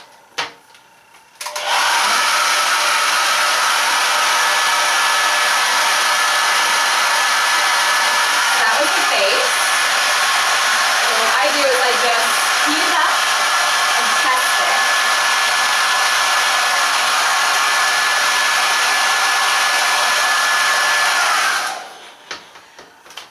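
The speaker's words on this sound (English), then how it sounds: "So I'm going to blow dry my face for a second to get the eyeliner to dry" Hair dryer blowing a steady, loud roar for about twenty seconds while drying freshly applied eyeliner during a 1960s-style makeup routine, starting abruptly and cutting off near the end, with faint shifting tones as the airflow moves.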